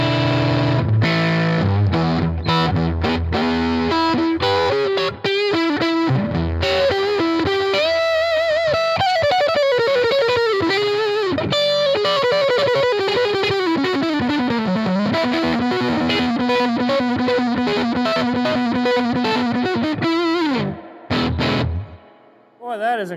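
An electric guitar plays through a cranked Fat Jimmy Gigmaster 35 amp, giving a loud, heavily distorted tone with sustained bent notes and chords that fade out near the end.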